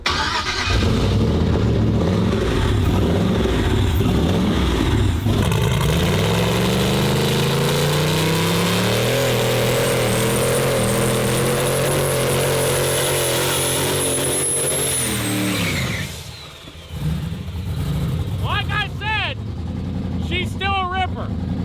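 A burnout competition car's engine revs loud and close for a long stretch, its pitch climbing and holding high before dropping off sharply, then settling back into a rough idle with a few short chirps.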